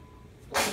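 A child with Down syndrome sneezes once in an indoor sensory room, a short, sudden, breathy burst at close range after a quiet moment.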